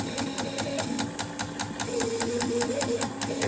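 A fuel pump runs on an injector test bench, making a steady, rapid, rhythmic mechanical pulsing whir close by.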